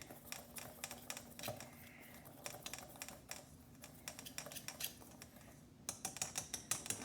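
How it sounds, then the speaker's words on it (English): A whisk stirs dry ingredients and spices, including cinnamon and allspice, in a bowl, making quiet, rapid, rhythmic clicking taps that come in quick bursts with brief pauses, alone and fairly soft. "Just go ahead and whisk this to combine."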